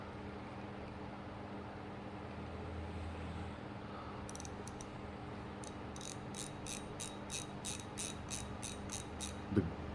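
Shimano Sahara spinning reel with its handle turned by hand, a quiet, smooth mechanical whir joined later by a steady run of light, regular clicks over faint background hiss.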